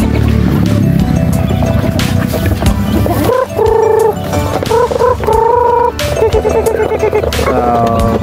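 A flock of chickens, hens and roosters clucks and calls loudly and up close, the squawks rising in bursts over a busy farmyard background with no talk.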